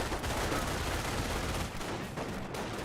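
Sustained rattling gunfire and rapid rifle and machine-gun bursts fill a Company of Heroes World War II battle, a continuous, fairly distant crackle with no break.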